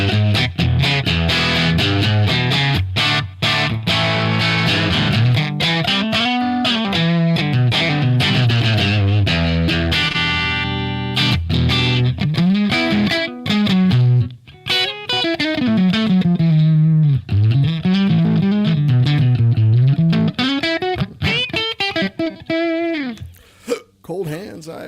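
An electric Telecaster guitar plays through a PROTO2 tube amp with a Marshall 4x12 impulse response, loud and close, with continuous chords and melodic runs and a slightly gritty tone over about twenty-five seconds.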